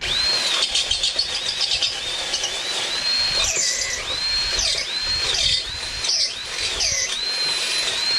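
A power drill bores a row of closely spaced holes side by side through metal for a 2021 Honda Monkey rear shock upgrade. Its motor whines steadily up close, pitch rising and falling in repeated cycles as each hole is cut.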